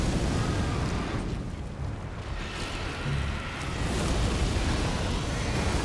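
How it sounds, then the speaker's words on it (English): Big explosion in the Elden Ring boss fight against Maliketh, the Black Blade, a sustained roaring blast with rumbling low end that swells and fades, under light battle noise. "Big explosion."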